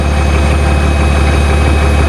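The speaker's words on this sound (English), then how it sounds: "On the bright side, our engine runs well now." A 1999 BMW 328i E46 engine runs at a steady idle, a loud, close, continuous low rumble with no voices.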